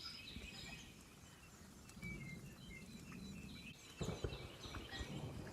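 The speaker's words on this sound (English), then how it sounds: "Every time I sit in the garden, I'm recording my birds." Birds sing in a garden, light scattered chirps and short tweets repeating at a distance over soft outdoor background noise.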